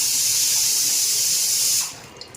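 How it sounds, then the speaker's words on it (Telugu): Water gushing steadily from a household tap after a water filter change, a loud continuous hiss that cuts off near the end, leaving a quiet drip-like trickle. "ఇప్పుడు రన్నింగ్లో అవుతాయి నీళ్ళు"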